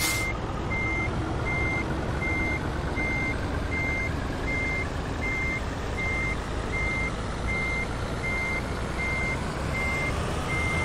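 Truck with a trailer reversing in Euro Truck Simulator 2, a steady train of evenly spaced reversing beeps over a constant diesel engine rumble, loud and continuous with no talking.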